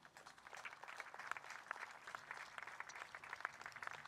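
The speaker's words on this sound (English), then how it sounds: "Please give them a round of applause." Audience applause at a Kaua'i veterans celebration, honoring cadet rifle bearers; steady, dense clapping from a crowd, moderately distant and even in level throughout.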